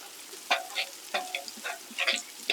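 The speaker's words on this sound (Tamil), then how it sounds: "வெங்காயம் நல்லா வதங்கிருச்சு." Chopped onions sizzle and crackle in a hot pan for a quail gravy, with a steady frying hiss and repeated stirring scrapes.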